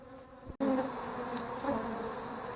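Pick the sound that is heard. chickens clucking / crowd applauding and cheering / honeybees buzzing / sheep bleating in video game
honeybees buzzing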